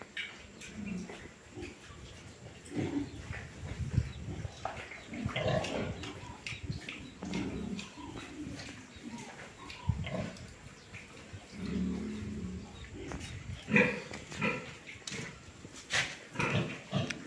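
Sixty-day-old piglets on a farm grunt and oink steadily at close range as they are weaned, a busy overlapping chorus of short snorts with no talk over it.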